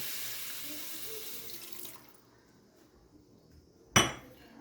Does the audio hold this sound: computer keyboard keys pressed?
no